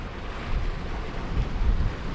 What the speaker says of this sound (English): The old wind is getting nasty now.